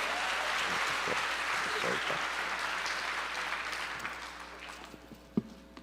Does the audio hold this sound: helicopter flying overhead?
no